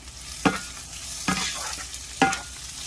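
Garlic and ginger fry with browned onions in hot oil, a steady sizzle broken by three sharp stirring scrapes of a utensil against the pan, close up with no talking.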